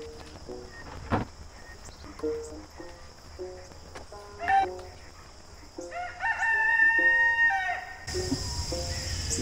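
Rooster crowing on a farm, a long drawn-out cock-a-doodle-doo rising clearly above quieter clucks and farmyard background, moderately close, followed by a burst of noise at the end.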